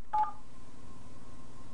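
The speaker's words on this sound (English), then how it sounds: "The phone, connected to the internet, dials just like a regular phone." A burst of DTMF dialing tones from an internet-connected phone run off a computer, heard briefly and clearly near the start, followed by a faint steady line tone.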